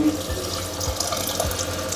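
Water poured from a glass into daal mash cooking in a clay pot, a steady splashing, trickling flow heard close up.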